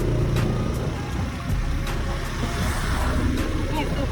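A motorbike ridden slowly by a learner rider rumbles steadily along a road, its engine drone mixed with heavy wind buffeting, and voices murmur faintly underneath.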